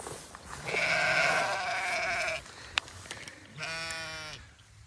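Sheep on a farm in the rain bleat twice, a long wavering bleat followed by a shorter one after a pause, fairly close and clear with faint background patter.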